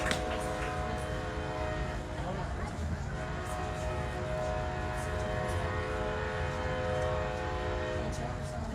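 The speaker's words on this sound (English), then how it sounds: "Got another train coming through the ballpark over here." A train rolls past close to a high school softball field, its horn sounding in sustained harmonic blasts over steady rumbling wheels for the whole stretch, with crowd chatter and voices faintly underneath.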